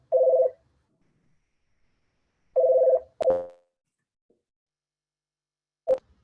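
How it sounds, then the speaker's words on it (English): Hotline telephone ringing during an online meeting: two short electronic trill bursts, then a click and a brief sharp tone, close and loud against near silence. "the hotline phone was ringing"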